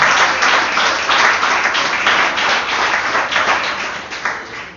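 Congregation applauding during a church service, a dense, steady wash of many hands clapping close and loud for several seconds, no voices standing out.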